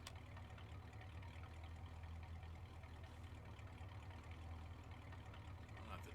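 A vehicle engine in the Roblox farming game Wicky Farms runs as a steady, low droning hum that holds evenly for the whole stretch without revving up or cutting out.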